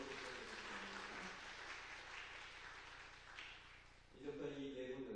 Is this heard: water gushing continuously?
no